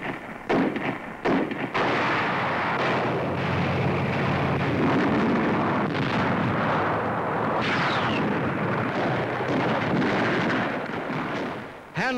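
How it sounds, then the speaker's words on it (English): Infantrymen fire at snipers along a roadside in a 1944 wartime newsreel, a loud, dense, continuous barrage of rumbling gunfire and blasts that fills the whole stretch. "Infantrymen open up on snipers and catch one taking cover alongside the road."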